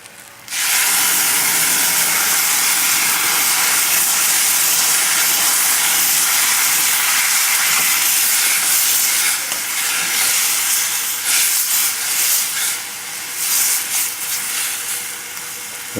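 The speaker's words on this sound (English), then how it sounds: "I'm going to add the wine." A loud, continuous sizzle erupts and holds steady as wine hits a hot pan while braising lamb shanks, the hissing crackle fluctuating slightly as it goes on.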